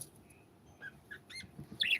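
Lovebirds kept indoors give a few short, high chirps and tweets, scattered and fairly faint, with a brighter call near the end.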